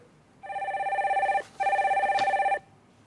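A telephone rings twice in quick succession as a caller is connected to a live phone-in broadcast, each ring a loud, trilling electronic burst with a short gap between them.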